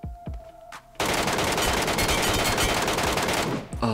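Continuous rapid automatic gunfire hammers at a boss in PUBG Mobile's Metro Royale mode, loud and dense after a few opening shots, with a brief voice heard early on.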